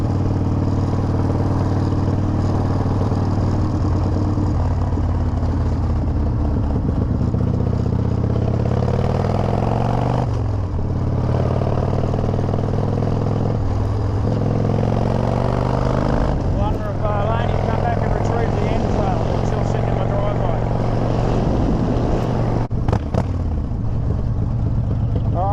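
A Ford F100 pickup truck, recently fitted with a new differential, runs steadily with a low, continuous engine rumble throughout, fairly close and loud, while someone talks over it.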